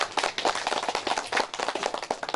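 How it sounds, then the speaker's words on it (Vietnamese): Applause breaks out at a 70th birthday longevity celebration in Phố Lu, Bảo Thắng, a quick, dense patter of many hands clapping together for a couple of seconds, fairly close and without talk. "Sau đây là xin đề nghị chúng ta cho tràng pháo tay ạ."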